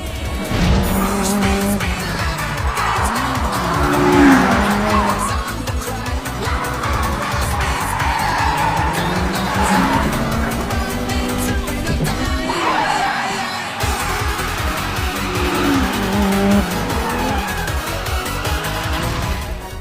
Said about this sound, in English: That's some unbelievable high rev on that engine.